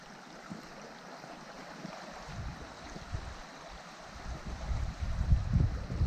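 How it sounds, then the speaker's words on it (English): A creek flows below a trail through redwood forest, a soft steady rush of water at a distance, joined by some nearby rustling and footsteps toward the end. "Still hear the creek down there"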